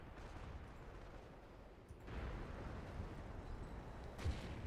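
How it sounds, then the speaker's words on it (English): Rumbling artillery fire in a Company of Heroes 1 battle, a sustained low roar swelling partway through, with a sharp louder blast near the end. "Artillery managing to do some serious damage."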